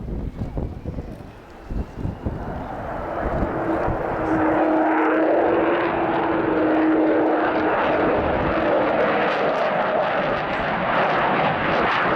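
Avro Vulcan XH558 bomber flying past at the RIAT 2015 airshow: a deep jet roar swells from quiet to loud and holds as it crosses the airfield, with wind noise.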